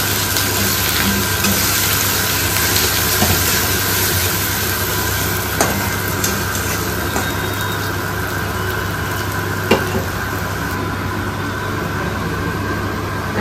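Spices sizzle in a hot pan while being stirred, giving a loud, steady hiss that runs unbroken throughout, with an occasional faint click from the stirring.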